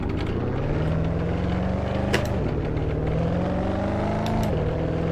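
Steady engine drone of a 2019 Chevrolet Corvette ZR1 cruising on a track in Assetto Corsa, the pitch rising smoothly and dropping at two gear changes, close and constant throughout.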